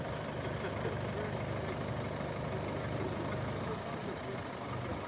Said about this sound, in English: Your engine, I'm hearing your engine really loud.